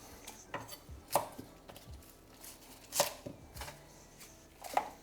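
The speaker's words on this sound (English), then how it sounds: "I'm just going to trim off the scraggly bits." A knife trims scraggly ends off chunky spring onions on a chopping board, giving about eight sparse, faint, close cuts and taps at an uneven pace. No one speaks.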